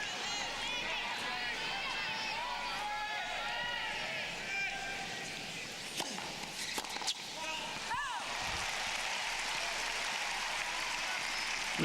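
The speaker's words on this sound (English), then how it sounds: "Agassi not even waiting for the applause to die down" US Open 2005 semifinal crowd applauding after a point between Agassi and Ginepri, a broad, steady wash of clapping from a big stadium audience, with commentators talking over it.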